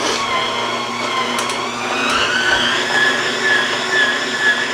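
An electric mixer whirs steadily and loudly, churning thick peanut butter cookie dough with a continuous motor whine that shifts slightly as the beaters work through the mix.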